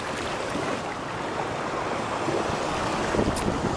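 Surf washes continuously onto the beach at Pompano Beach, Florida, a loud, close, steady rush of waves mixed with gusting wind buffeting the microphone, with no voices.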